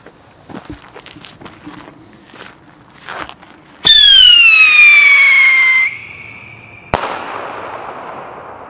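A small New Year's firework with a bang: a rising whistling squeal after some quiet shuffling, then one sharp loud bang followed by a fading crackle, outdoors and fairly close.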